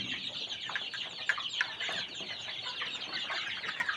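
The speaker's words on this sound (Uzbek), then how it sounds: "Ana endi kichkina jo'jalarga o'tamiz" Young chicks on a small farm flock chirp and peep in quick, overlapping bursts, a busy high-pitched twittering that carries on steadily with a few sharper peeps standing out.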